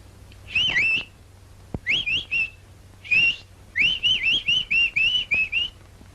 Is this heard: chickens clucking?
no